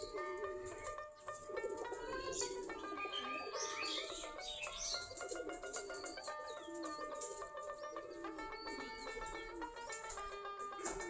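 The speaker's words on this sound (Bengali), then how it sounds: "অনেকগুলা কবুতর খোপের কাছে চলে গেছে" Giribaz pigeons coo and chirp near their coop, a dense, continuous flock chorus of soft calls and tweets layered together, steady and moderately close throughout.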